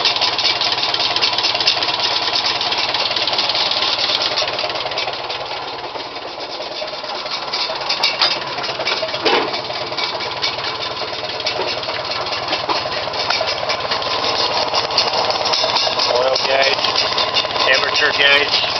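A 1950 Farmall M tractor engine, freshly given a new head gasket, cleaned carburetor and new starter parts, runs and idles with a steady close rattling chug, continuous and fairly loud throughout.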